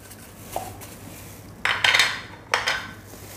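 Garlic ginger paste goes into a bowl of chicken wings for marinating, heard as a soft clink and then a few sharp scraping, clattering knocks of a utensil against the bowl, close and alone.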